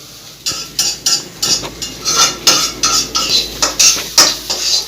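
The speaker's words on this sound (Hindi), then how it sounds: "वही बस ला भून कर मैं बना रहा हूँ" Chowmein noodles are stir-fried in a metal pan in a Chhattisgarh village kitchen, with a close, loud, steady rhythm of about a dozen spatula scrapes and clanks against the pan.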